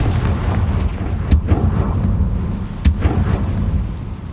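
A Confringo blasting spell in Hogwarts Legacy erupts in two loud, close booming blasts about a second and a half apart, over a dense rumbling explosive roar.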